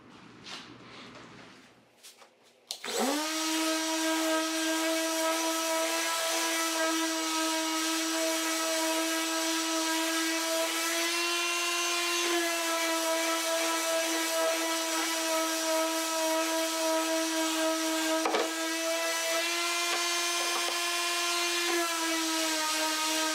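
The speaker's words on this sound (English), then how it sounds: "I'm just gonna finish sanding that" A power sander whines steadily at close range on wood window casing, a sustained tonal hum running unbroken after a brief quiet start, with small dips in pitch.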